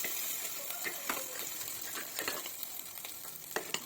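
Moong lentil curry is stirred in a pot after lemon juice is added, with a faint ongoing simmer and sizzle and several soft spoon scrapes and taps spaced through it, quiet and close.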